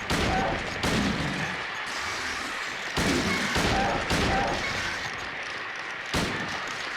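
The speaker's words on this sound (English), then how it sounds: "let's shoot these from a distance" Gunfire in the survival-horror game Silent Hill 2 rings out as loud sharp shots at uneven intervals, each a broad crack with a short decaying tail over a dim ambient bed.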